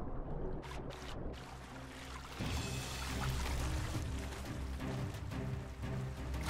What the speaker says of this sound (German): Der Große trinkt rechts.